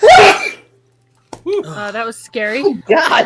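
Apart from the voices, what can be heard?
sneeze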